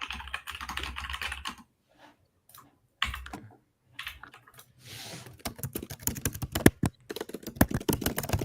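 Fast typing on a computer keyboard comes in rapid bursts of clacking keys, close and crisp, broken by short pauses. It ends in a dense flurry of keystrokes.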